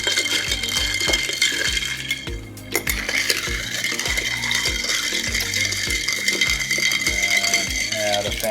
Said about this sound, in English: We're gonna stir this drink to incorporate all the ingredients.